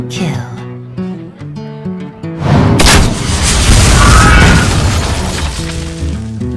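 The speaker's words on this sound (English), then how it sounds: "I've got a huge gun! One shot, one kill." A huge gun firing in the Hearthstone card game, one loud booming blast with shattering crash debris that rises over the game's melodic music and rings out for several seconds.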